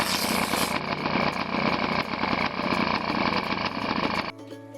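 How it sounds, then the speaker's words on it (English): A 1969 CZ350 two-stroke motorcycle engine runs loud and close, a steady buzzing drone with rapid crackling firing pulses, cutting off abruptly near the end to a faint lingering hum. "Say hello to the CZ350, a no-nonsense two-stroke machine built by Cheesy, Česká Zbrojovka."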